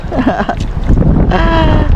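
Strong wind roars and buffets the microphone aboard a fishing boat at sea. It is loud and continuous, with a rushing, gusty texture, and brief indistinct voices come through underneath.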